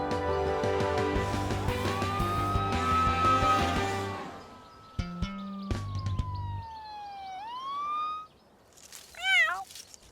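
A cartoon kitten stuck up a tree meows in a rising, wavering cry near the end, after a busy musical passage with a siren-like sliding tone.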